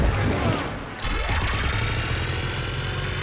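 Continuous rumbling Mass Effect 3 gunfire and explosions with a droning engine underneath, loud and dense throughout, a brief dip before the barrage resumes.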